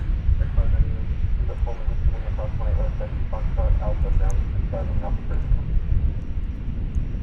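American Airlines Airbus A321 arriving at DFW Airport, a low jet engine rumble under steady talk, with an airband radio voice crackling in over it.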